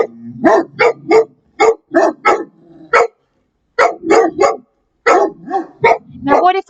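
Big loud dogs barking close by indoors, a series of sharp, heavy barks in quick bursts with brief pauses between, loud and alone.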